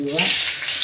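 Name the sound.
fenugreek seeds sizzling in hot oil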